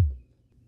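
A single short, deep kick drum hit from the percussive synth oscillator of a Teenage Engineering TX-6 field mixer, a low thump that decays quickly into near silence.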